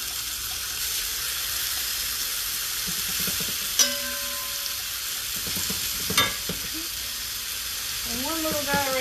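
Pork chops sizzling in a pan with a soft, even crackle, broken by a couple of sharp clanks as pieces are set back in.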